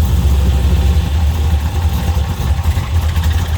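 A 502 crate engine, a full roller motor in a 1950 Chevy Styleline Deluxe resto-mod, idles loud and close with a steady, deep rumble that holds without any revs. No voices.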